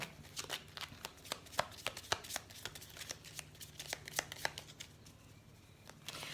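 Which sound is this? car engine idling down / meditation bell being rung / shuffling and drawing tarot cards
shuffling and drawing tarot cards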